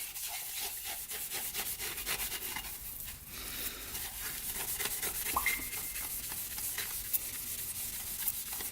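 A part from a Yamaha Raptor 700 ATV scrubbed by hand to strip the first layer, heard as steady close rubbing and brushing strokes in a fairly quiet setting.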